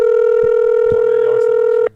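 A telephone tone sounds steadily and loud for nearly two seconds, a dialing or call tone with faint clicks and brief background noises, then cuts off abruptly.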